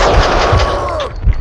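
Gunfire rings out in the video game Max Payne 2, a loud burst of shots with ringing echoes and a whistling tail, followed by a final thud under the game's background noise.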